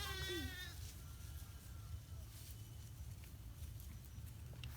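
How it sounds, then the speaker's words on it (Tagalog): A young goat bleats loudly and close by for a moment at the start, a wavering cry over steady low outdoor rumble on a rural plot of land, followed by a few faint scattered rustles. "May babing kambing."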